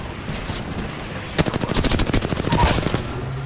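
Rapid automatic gunfire in the video game Apex Legends, a loud close burst of evenly spaced shots lasting about two seconds after a brief quiet lead-in.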